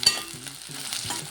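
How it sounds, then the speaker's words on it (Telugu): Onions frying in hot oil in a kadai, a soft steady sizzle with a few stirring scrapes, brief and fairly quiet. "దీంట్లో మనం ఉల్లిగడ్డ వేసేసుకున్నామండి. ఫ్రై చేసుకున్నామండి."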